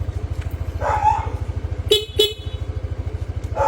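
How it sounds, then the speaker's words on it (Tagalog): Dual horn setup on a Yamaha Aerox V2 scooter sounds two short, sharp honks in quick succession over a steady idling engine putter, close and loud. "dito po natin nilagay yung switch ni sir sa dual horn setup"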